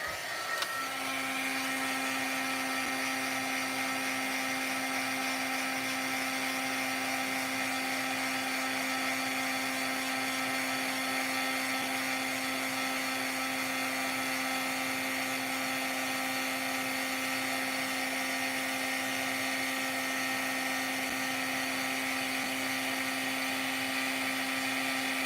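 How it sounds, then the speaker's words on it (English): A steady, loud blowing whir with a constant hum from a heat embossing gun, running unbroken for the whole stretch, no voices. "The magic of heat embossing, I just love it"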